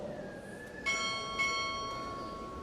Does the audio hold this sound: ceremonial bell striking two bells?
yes